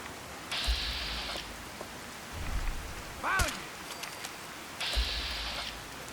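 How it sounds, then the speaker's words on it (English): Soft, steady rain hisses in the background of Fallout 4 while electronic game tones and a low rumble come and go over it. "it's a good rainy day to be up in Maine"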